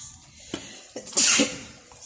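A single sharp sneeze bursts out after a couple of quiet clicks, close by and with no talking.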